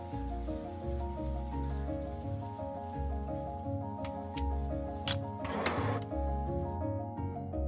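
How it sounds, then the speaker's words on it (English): Yarn spinning machines in a denim fabric mill, a dense mechanical hum with layered rhythmic ticking and whirring, plus a few sharp clicks and a brief hiss of air, steady and continuous. "The machine also monitors the moment when the bobbin reaches the end and needs to be glued to the next bobbin."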